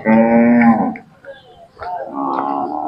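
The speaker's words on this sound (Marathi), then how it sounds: "सुंदर दुधाच्या वंशावळीतून गाय आहे" A Khillar cow at a village cattle fair in Sangola, Solapur, gives two loud, close moos: a long, full call, a short pause, then a second drawn-out low.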